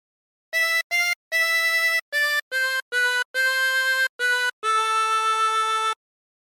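A harmonica plays a short melodic phrase, a run of clear sustained reed notes with brief gaps between them, ending on a longer held tone, played alone and close.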